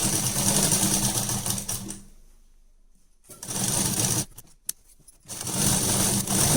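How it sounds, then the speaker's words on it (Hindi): An electric sewing machine runs in steady bursts while stitching the side seam of a short appliqué kurti, with loud whirring runs broken by a brief pause and a few quieter stops in between, and no talking. "हम कुर्ती की दूसरी साइड भी स्टिच कर लेंगे, फिटिंग कर लेंगे इस तरह से"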